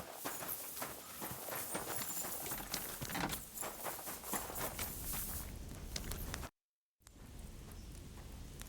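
Horse hooves clip-clop at a steady walking rhythm in the medieval video game Kingdom Come: Deliverance II. They are close and fairly loud, cut by a brief dropout of silence near the end.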